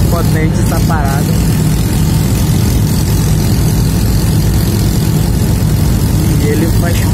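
A motorboat engine roars loud and steady, continuous and close, while racing alongside another boat, with voices talking over the noise.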